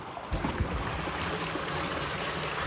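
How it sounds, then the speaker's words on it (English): A small canyon creek trickling and splashing into little pools, a steady close-up burble with a few louder splashes near the start, no voices. "look at this little creek"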